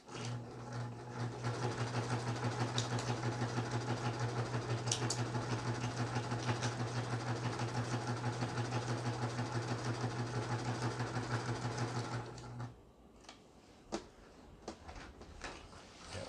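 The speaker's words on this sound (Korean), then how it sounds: "이제 오버록 스티치지요. 옷감이 풀리지 않도록 하는 이런 바느질이 되겠습니다." A domestic Juki HZL sewing machine runs an overlock stitch along a fabric edge for about twelve seconds, a steady close mechanical whir with rapid needle beats, then it stops and leaves quiet handling noises.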